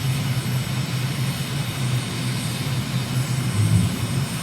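A flight simulator aircraft powers up on approach with the gear and flaps down. Its engine gives a steady, loud drone with a low throbbing hum that swells slightly near the end, and nobody speaks.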